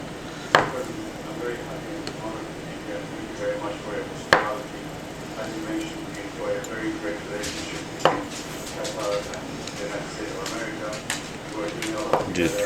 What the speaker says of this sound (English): Cut a couple pieces thin.